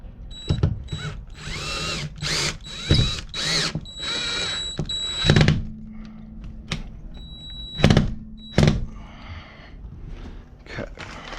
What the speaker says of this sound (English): Then I'll drill one more hole and set another screw into another stud